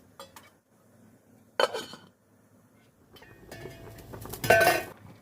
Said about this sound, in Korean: 그리고 뚜껑을 덮고 삶아주세요.